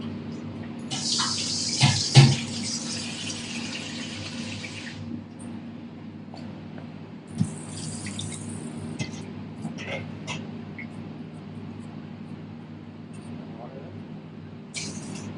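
Water poured from a tap onto jasmine rice for a rice cooker, a short hissing splash early on followed by a second brief pour amid kitchen bumps and low room hum.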